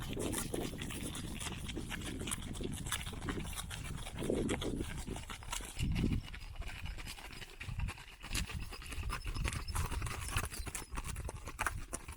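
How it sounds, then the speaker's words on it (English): Horses ridden at a walk across a grassy meadow on a ranch, hooves clip-clopping steadily and close by over a constant outdoor background, with no talking. "Now we get to ride our horses across this grassy meadow."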